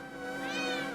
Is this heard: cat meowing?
yes